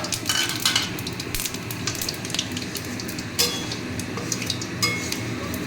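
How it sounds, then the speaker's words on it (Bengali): Whole spices tempering in a generous amount of hot oil for a chitol fish dish, a steady close sizzle with occasional crackles and a few light clinks of a utensil against the pan. "এই যে এই মশলাটা ফোড়ন দিয়ে দিচ্ছি"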